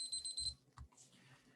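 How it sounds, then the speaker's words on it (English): A kitchen timer goes off during a staining session, a brief high electronic beeping of about half a second followed by faint handling noise, close and fairly quiet. "There's my timer."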